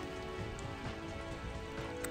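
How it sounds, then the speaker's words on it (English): Steady rain patters on surfaces outdoors near a tower at the start of a shower, a dense even hiss with scattered drops and no speech. "it is starting to rain."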